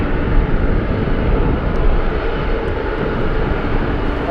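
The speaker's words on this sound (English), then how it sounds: "Let's go over to Alaska 99 flying in from SeaTac, a 737 MAX 8" An Alaska Airlines Boeing 737 MAX 8 arriving at Anchorage from SeaTac makes a steady, moderately loud broadband jet rush, heard from a distance on a windy day with no voices.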